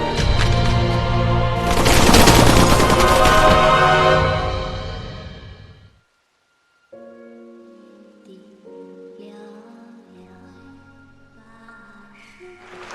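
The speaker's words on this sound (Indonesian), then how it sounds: "Dia lalu segera memerintahkan anak buahnya untuk membunuh Xiao dengan berondongan peluru" A loud, dense burst of film gunfire, a rapid volley of shots lasting a few seconds before cutting to silence, followed by quieter tonal music.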